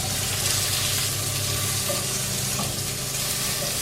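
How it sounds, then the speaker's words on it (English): Sausage sizzling and frying in a non-stick skillet, a steady dense crackle throughout, close and moderately loud with no talking. "So I got some sausage over here cooking"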